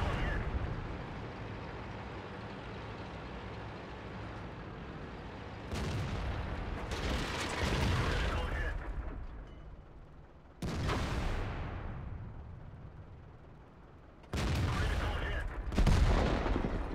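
Tank cannon fire in World of Tanks, heard as a few heavy, broadband blasts, each with a rumbling tail, spaced several seconds apart over a continuous low engine and battle rumble.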